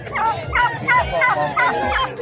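A male turkey at a pet market gobbles in a rapid, warbling burst of repeated notes, close and fairly loud, with no one speaking.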